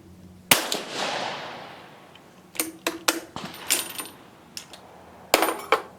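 A Vetterli 1870/87/15 rifle chambered in 6.5 Carcano fires a sharp, loud shot outdoors that echoes away, followed by metallic clicks and clacks of the action and a second report near the end.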